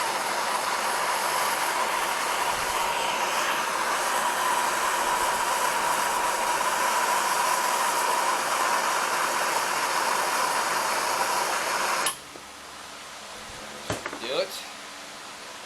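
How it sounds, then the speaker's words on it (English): An electric fan runs close by as a loud, steady broadband whir for about twelve seconds, then cuts off abruptly, leaving quieter room sound and a couple of brief clanks. "I also got the fan going on behind me because there is no wind right now"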